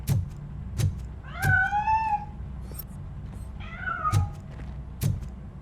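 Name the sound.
cat meowing, from the video game Robocop: Rogue City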